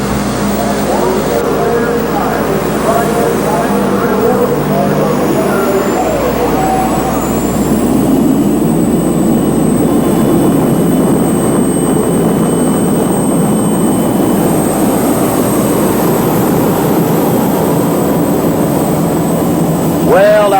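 A tractor-pulling vehicle powered by Westinghouse T64 helicopter turbine engines, started by a 1,000cc Kawasaki motorcycle engine, roars with a loud, sustained turbine whine and heavy rumble throughout a pull at an outdoor event, with an announcer talking over it.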